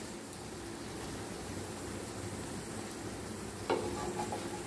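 A chapati cooks in oil on a hot griddle, giving a faint, steady sizzle with soft scraping near the end, heard without talk.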